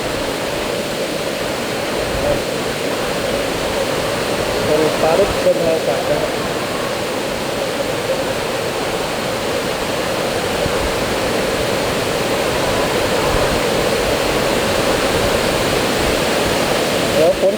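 Heavy rain pours steadily over an outdoor stage during a storm, a dense, even roar that fills the whole stretch without letup; no distinct thunderclap stands out.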